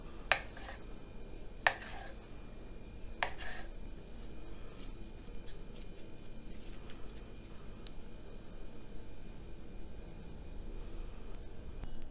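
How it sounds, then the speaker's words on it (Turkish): Minced meat and potato filling for katmer börek being mixed in a bowl, a few sharp utensil clicks early on, then soft, quiet rubbing and squishing with no talk. "Şimdi bunları bir araya getirip güzelce karıştıracağım."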